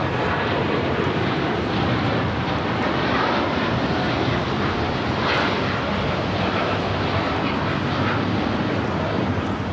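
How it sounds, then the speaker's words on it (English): A United Airlines Boeing 787-9 Dreamliner takes off from Los Angeles LAX bound for Shanghai, its jet engines producing a loud, continuous broadband roar that holds steady throughout, with no voices. "This is United Airlines 198 taking off to Shanghai on the 787-9 Dreamliner"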